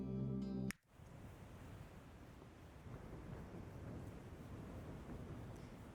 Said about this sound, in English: The roar of waves fills the air, and thunder rumbles in the distance.